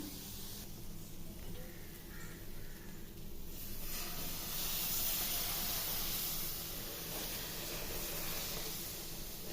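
Steady broadband hiss of water sizzling on a hot griddle, continuous and fairly loud throughout with no talking.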